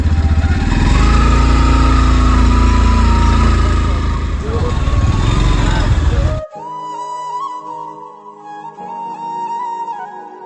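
A motorbike engine runs loud and close as the bike is ridden, with a steady drone that shifts in pitch. Voices talk over it before the sound cuts to quieter background music.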